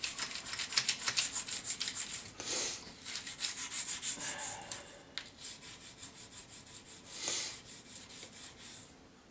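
A toothbrush scrubs quickly over a metal coin mechanism wetted with alcohol, working into the cracks of the coin path in bursts of close, bristly rubbing strokes with short pauses between them.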